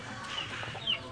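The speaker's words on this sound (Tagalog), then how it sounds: "aking mga manok na nangingitlog dito" Laying hens in a small backyard coop housing five birds give a couple of soft, brief clucks over quiet ambient background.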